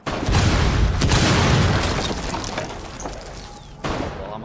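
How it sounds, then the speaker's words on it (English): Frag grenade blast in Rainbow Six Siege, a loud booming burst with a ringing, decaying tail and a second smaller hit near the end. "Oh no, that's a frag."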